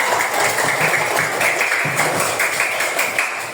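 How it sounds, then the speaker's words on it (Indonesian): Classroom applause for a student group during presentations, a dense steady patter of many hands clapping together, fairly loud and continuous before tapering slightly at the end. "Beri tepuk tangan untuk kelompok 2."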